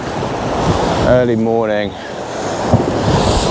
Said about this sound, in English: the waves are all over the place